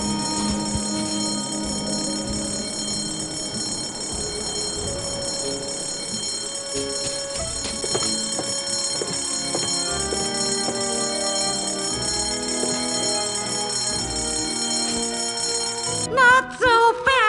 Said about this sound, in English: That fire alarm is not a toy, Mr. Threepwood.